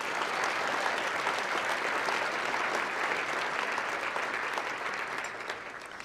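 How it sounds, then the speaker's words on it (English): Steady, dense applause from an audience at a charity gala presentation, warm clapping holding evenly for several seconds before easing slightly at the end, with no talk over it. "Let's give all of our sponsors a warm round of applause"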